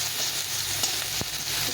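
Turmeric, cumin and chili powder frying in a pan with salt, a steady close sizzle with a faint stir or scrape near the end.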